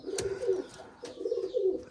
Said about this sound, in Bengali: খুবই সুন্দর কবুতর।